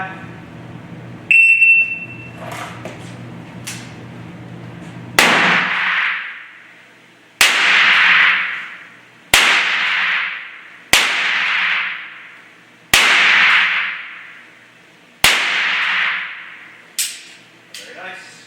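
Six handgun shots fired in a proficiency test, loud sharp reports spaced roughly two seconds apart, each with a ringing decay, after a brief electronic start tone; no talking between shots.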